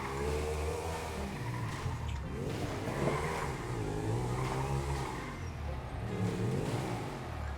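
A car engine in GTA 5 hums and revs steadily while driving, with repeated rising and falling pitch sweeps as it accelerates and shifts, loud and continuous.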